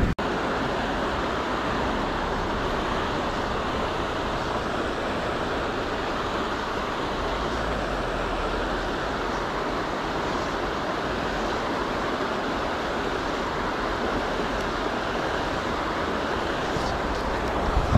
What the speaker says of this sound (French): c'est la tempête. Pas mal d'orage, grosse pluie, gros vent